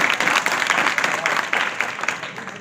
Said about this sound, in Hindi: एक बार अपने लिए तालियां बजाओ सब।